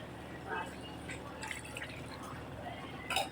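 Water is poured into a cooking pot of pork kaldereta, a soft, brief splashing and trickling with a few drips, fairly quiet and close.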